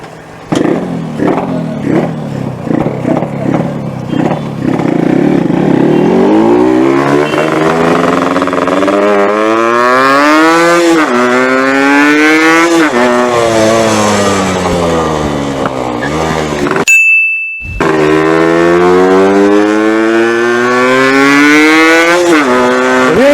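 A Yamaha RXZ two-stroke motorcycle, converted to a five-speed gearbox, revs hard and rides, its loud close engine note climbing and dropping through repeated gear changes with one brief cut near the end.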